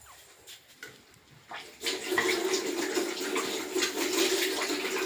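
Running water from a tap splashes steadily over hands at a sink, starting faint and rising to a continuous close hiss after about two seconds.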